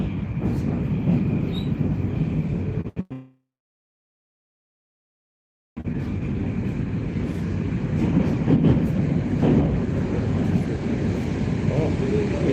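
A Russian metro train rumbles steadily along at close range, cutting out briefly for a few seconds before the loud hum and rattle of the carriage return.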